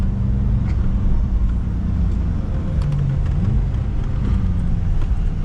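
BMW M5 F10 driving on a wet road, heard from inside the cabin: a steady low engine and road rumble throughout, with faint tyre and spray hiss and slight shifts in engine tone.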